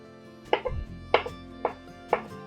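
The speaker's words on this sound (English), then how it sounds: "Oh, I just realized you guys can't see me chopping all this time." A knife chops bell pepper on a cutting board in four crisp, close, evenly spaced knocks, with no talking.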